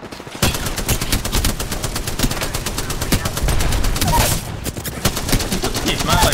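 Rapid automatic gunfire from a shooter video game, loud and nearly continuous for several seconds, with bursts of shots layered over game effects and some voice activity.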